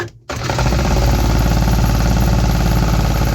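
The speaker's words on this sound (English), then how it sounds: "let's see if the engine is gonna run for longer" A 3D-printed 125cc two-stroke engine fitted with a carburetor fires up after a brief silence and runs steadily and loudly, with a fast, buzzing, rattling exhaust pulse throughout.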